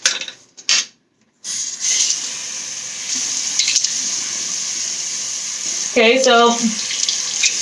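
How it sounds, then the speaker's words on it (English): A tap runs with a steady hiss of flowing water while someone washes their face, the stream continuous and close, with someone speaking briefly at the start and a short voiced sound near the end. "And you're supposed to wash your face with water."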